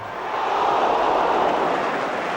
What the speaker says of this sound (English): Well might the crowd ooh.